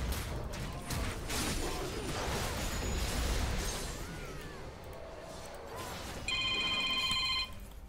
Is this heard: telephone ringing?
yes